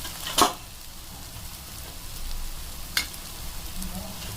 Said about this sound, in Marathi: आता आपला मसाला फ्राय होता त्याच्यामध्ये मी थोडीशी हळद ॲड करते